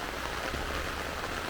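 Rain falls steadily along a street in Montego Bay, Jamaica, a constant broad patter of drops on nearby surfaces, close and unbroken.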